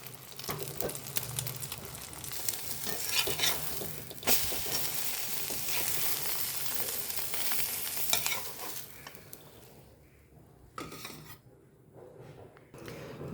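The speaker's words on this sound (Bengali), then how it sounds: "তো আমি ডিমের অমলেটটা ভেজে নিয়ে আসছি" An egg omelette fries in a pan, bright sizzling and crackling with occasional stirring and scraping, fading to quieter sputters toward the end.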